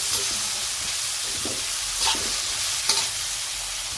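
Garlic and tomato sautéing in a pan at home, a steady sizzle and hiss with a few spatula stirs scraping through, close and continuous with no talking.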